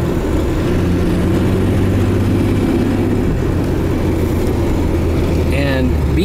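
A Jaguar Mark X 420G saloon's 4.2-litre straight-six idles low and steady, a constant deep rumble heard close and loud throughout, with faint chirps near the end.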